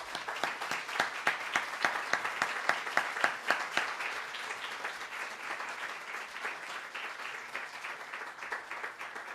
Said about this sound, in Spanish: le pido un aplauso para la maestra